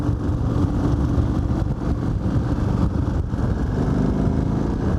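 Motorcycle engine with new plugs, valves and race-based oil, a rough steady close-up rumble that swells slightly as it revs, with no talk.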